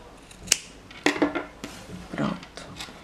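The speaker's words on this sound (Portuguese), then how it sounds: "Eu vou aparar aqui as pontas dele." Scissors snip off the yarn ends of a crochet clutch, a few crisp close cuts with small rustles and handling noises in between.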